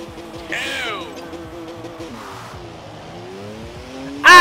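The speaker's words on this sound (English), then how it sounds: "The SuPrA tears away." A Toyota Supra in Forza Horizon 4 accelerates away, its engine note rising and sweeping through gears, fairly loud and close, with a sharp burst near the end.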